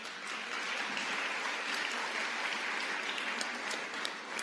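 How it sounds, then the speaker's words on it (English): A crowd claps steadily at an exhibit opening, a dense, sustained round of applause at moderate distance with no voices standing out. "Go ahead and give it another applause."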